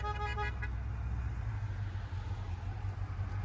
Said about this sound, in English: Honk your horn for Trump if you can hear me up there.